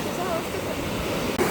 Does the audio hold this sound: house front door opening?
no